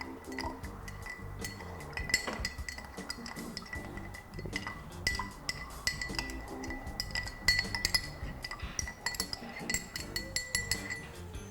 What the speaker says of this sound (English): you're just going to stir them.